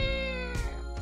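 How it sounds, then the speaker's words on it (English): A cat meows in one drawn-out, loud, harmonic-rich call that rises and falls, followed by a shorter second meow close to the listener. "And then the cat will be like, meow."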